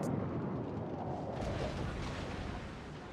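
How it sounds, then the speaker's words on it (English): A torpedo hits a ship in World of Warships with a loud, deep explosive boom that rolls into a sustained roaring rumble and slowly fades over a few seconds. "Now, there was one torpedo hit"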